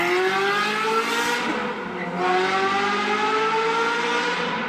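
A fire-damaged Ferrari engine with a flat-plane crank revs high, climbing in pitch with smooth, rising harmonic tones, dipping briefly, then revving up again. Loud and close, with no voices.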